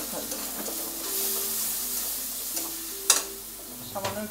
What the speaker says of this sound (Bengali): আর পরিমাণ মতো চিনি দিয়ে মশলাটা কষাতে থাকবে।